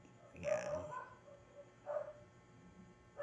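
A hungry dog barks in short bursts at a moderate distance, three separate yaps spaced about a second or more apart with quiet gaps between them.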